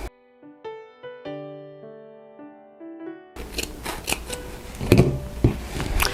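A piano melody plays first, then scissors snip through fabric corners of a sewn wine gift bag, a few close crisp cuts and rustles.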